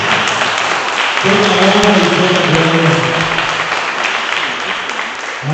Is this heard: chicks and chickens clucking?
no